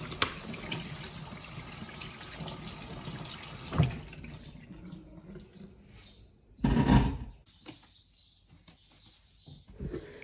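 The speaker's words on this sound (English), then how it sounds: "Rinse them once under the running water" Asparagus is rinsed under a running kitchen tap, a steady splashing stream of water for about four seconds, then quieter handling with a brief louder gush partway through.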